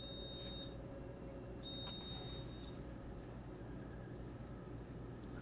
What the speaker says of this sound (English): I hear beeping noises.